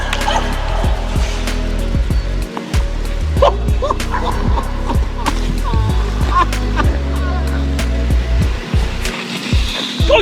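A dog barking and yipping while playing hockey, with quick repeated barks over a busy backdrop of scraping, thudding play sounds and occasional voices.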